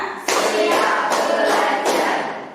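A classroom group claps together in quick, rhythmic counted bursts, the applause swelling and dipping in a steady pattern nearby.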